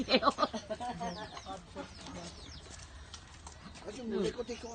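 Chickens cluck and chirp nearby under a person speaking, with a louder burst of calls at the start and again near the end.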